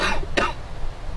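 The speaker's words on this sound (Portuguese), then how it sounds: "A tosse dos 600 diabos." A single sharp cough bursts out, close and loud, after a brief stretch of muffled voice.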